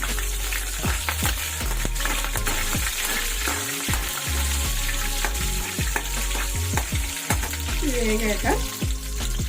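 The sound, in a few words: mustard seeds, cumin and dried red chilli frying in oil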